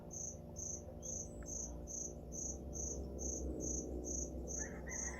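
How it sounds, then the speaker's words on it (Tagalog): A cricket hidden inside a small store chirps in a steady, evenly spaced rhythm, bright and close over a low constant hum of background noise. "ang ingay talaga ng kuliglig"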